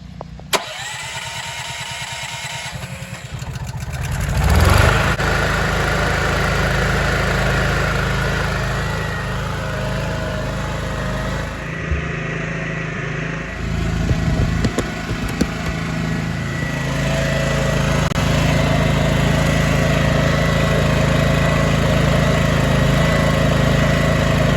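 A portable generator engine fires up after a short pull and settles into a loud, steady, continuous running drone, heard alone and close by.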